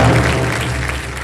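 Studio audience on a Hindi quiz show clapping steadily to welcome contestants, a dense, even applause throughout the short moment.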